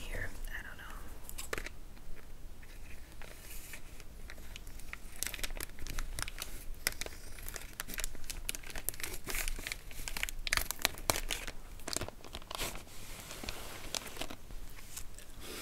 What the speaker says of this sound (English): We just have a little package in here. Let me just cut it open.